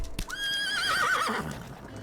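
A horse whinnies in the Roblox game The Wild West, one clear rising-then-wavering neigh lasting over a second, moderately loud and unaccompanied by talk.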